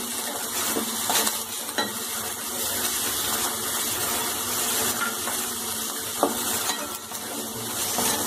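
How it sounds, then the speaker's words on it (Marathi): Mixed vegetables with peas sauté for Bhogi bhaji, a Maharashtrian Sankranti dish, with a steady close sizzle and occasional spoon scrapes and clinks against the pan. No voices are heard. "आता किंचितसा गॅस मोठा करून हे छानसं परतून घ्यायचं"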